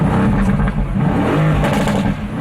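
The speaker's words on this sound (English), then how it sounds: "the exhaust on this thing is crazy" A car exhaust revving close by, loud and throaty with continuous engine roar and rising and falling pulses over a few seconds, no talk.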